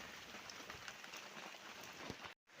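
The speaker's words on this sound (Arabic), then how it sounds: "وقعدت نشوف المطر نستمتع بالمطر." Rain falls steadily in a dense, close hiss of drops striking surfaces, with scattered louder patters, broken by a brief dropout just before the end.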